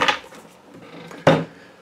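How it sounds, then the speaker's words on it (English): Two sharp thumps about a second apart, the second louder, as a cat jumps onto a hard surface indoors, with quiet room noise between. "That's my cat jumping around"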